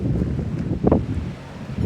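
Strong wind gusts during a winter storm batter the microphone with a steady low roar, swelling into a louder gust near the middle.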